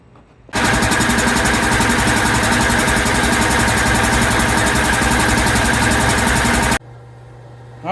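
A rebuilt Kellogg 335TVX air compressor starts up and runs with a loud, steady mechanical chugging drone, then shuts off abruptly, leaving a quieter background hum; no one talks.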